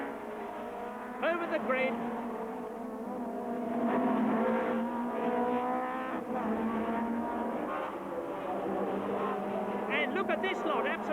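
British touring cars from 1991 racing at Silverstone, engines rising and falling as a close pack comes out of Woodcote and passes, with a commentator talking over the roar.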